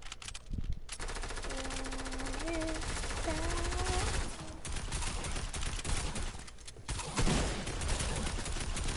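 Rapid bursts of automatic gunfire in the Fortnite pre-game lobby, loud and sustained across the whole stretch with brief lulls, under faint voices.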